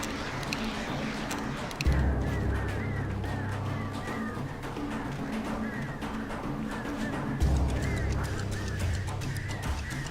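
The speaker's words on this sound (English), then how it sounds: "Birds." Geese or similar birds honk repeatedly in the Alan Wake video game, a flurry of nasal calls over a steady low rumble of game ambience, with a heavier low thump partway through.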